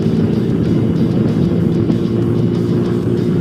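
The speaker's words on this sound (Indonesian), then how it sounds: "Dan kalau kalian sering gaspol seperti ini" A stock Yamaha Mio J scooter engine is held at full throttle, a loud, steady, even drone close by with no pauses.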